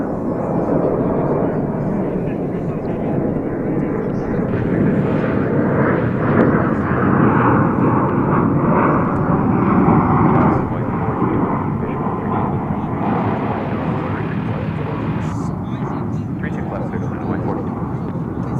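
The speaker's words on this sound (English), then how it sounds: "let's see if we can catch this going up into the afternoon skies here. It is rolling down the runway." Airliner rolling down the runway for takeoff at DFW Airport, heard from a distance as a steady, broad jet roar that holds loudly throughout, with a person talking over it.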